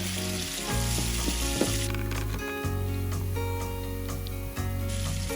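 Onion and tomatoes fry in a pan for an aubergine stew, giving a close, steady sizzle with crackling pops and occasional stirring scrapes, with no talk.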